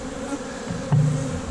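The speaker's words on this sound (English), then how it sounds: "So many bees, and ow, gosh, they love my elbows." Honeybees buzzing densely at a large overwintering hive in South Carolina in January, a steady close swarm hum filling the whole moment with no talk.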